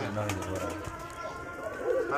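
Giribaj pigeons coo softly in low, throaty murmurs, with a person talking over them close by.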